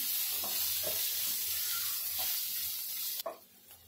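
A spoon stirs homemade masala into a whole masoor lentil curry frying in a pan, with a steady close sizzle and soft scraping strokes, ending in a brief clack.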